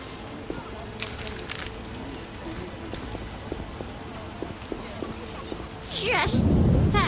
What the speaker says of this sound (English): Raining cats and dogs.